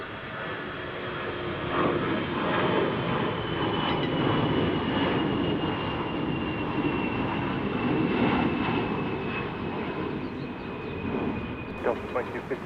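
An airliner taking off from runway 16 left at Salt Lake City airport, a loud, steady jet engine roar sustained throughout. Radio chatter can be heard over the noise.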